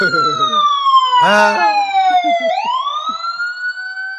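A loud wailing siren sweeps steadily downward, then rises again, with a brief burst of shouting voices partway through.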